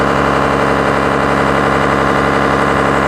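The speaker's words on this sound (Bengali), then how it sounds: "এম খান সাত পাঁচটি লঞ্চটি বিকাল চারটে নাগাদ রিভার ট্রেলে বের হয়েছে" Diesel engine of the M Khan 7/5 passenger launch ship on a river trial near Barishal, a steady droning hum with low vibration, loud and continuous with no talk.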